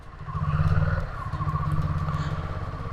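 A motorbike engine runs close by at a low, steady idle with a rough, pulsing throb and a faint clatter, ridden on a hill road near Dhanachuli.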